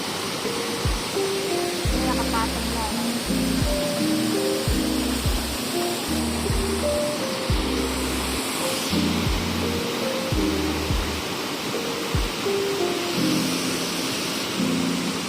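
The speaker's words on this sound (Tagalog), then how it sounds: "Kakatapos lang ng bagyong uwan at ito ang kalagayan ng ilog ngayon" Steady broadband rush of a fast-flowing river just after a typhoon fills the whole clip, with a voice speaking over it.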